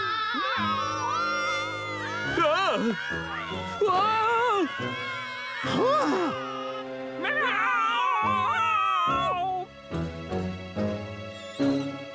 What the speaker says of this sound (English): I'm afraid it's the Alley Cat opera